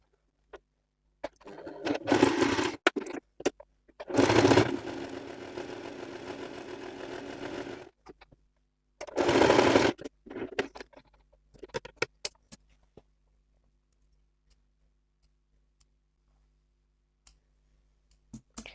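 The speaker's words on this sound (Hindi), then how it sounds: "यहाँ ऊपर से भी हम उसी तरह से स्टिच लगा लेंगे।" A sewing machine stitches a boy's shirt in three distinct runs of loud, close whirring, the middle one longest, separated by pauses and followed by quiet scattered clicks of handling.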